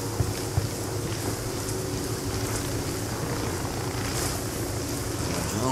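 A steady whirring drone hum holds at a constant pitch throughout, with light wind-like noise over it, in Ghost Recon Wildlands.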